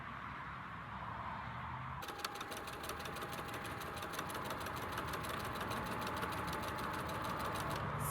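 A sewing machine runs steadily while stitching around the edge of a four-patch fabric coaster, a rapid even whir starting after a quiet moment and continuing without pause, close and alone with no talk.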